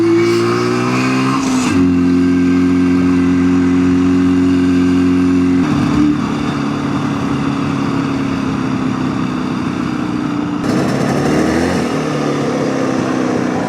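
A two-stroke motorcycle engine runs loud and close, holding a steady high-pitched buzzing drone with shifts in revs, a brief dip near two seconds and another rise around eleven seconds.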